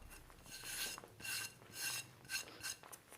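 A spoon stirs thick beetroot and palm sugar mixture in a pan, five rhythmic scraping rasps with short pauses between them, close and clear.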